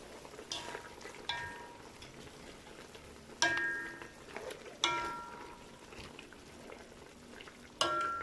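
Pork adobo is stirred in a cooking pan, giving several sharp spoon-on-pan clanks spaced a few seconds apart over a quiet, low sizzle, fairly close and otherwise without talk.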